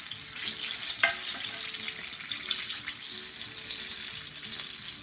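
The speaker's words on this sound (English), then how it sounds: "I'm through frying my apple pies" Southern fried apple pies sizzle in hot oil, giving a steady, bright frying hiss with a few small pops and crackles, close and continuous with no talking.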